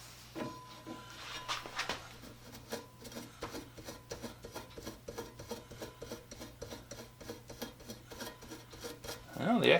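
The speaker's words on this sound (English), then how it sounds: "the excess sands off easy" Excess material is hand-sanded off a newly mounted band saw tire, making a steady series of rhythmic rasping strokes close by.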